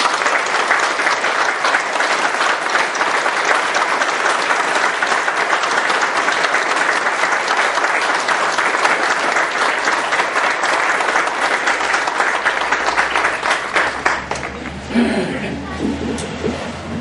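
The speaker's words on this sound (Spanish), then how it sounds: "Y brindar un fuerte aplauso." Sustained, dense applause from a concert audience at a municipal band music festival, loud and steady throughout, thinning into scattered claps and a low murmur near the end.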